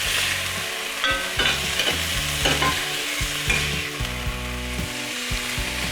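Beef browning in a hot pan for a stout and bacon pot pie, a steady loud sizzle with repeated scraping stirs and clinks of a utensil against the pan over about six seconds.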